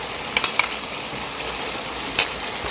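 Masala for matar paneer fries in a pan with a steady bright hiss, broken by a few sharp clicks of a spoon against the pan, close and continuous without talk.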